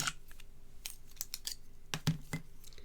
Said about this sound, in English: I'm just going to grab some scissors for this.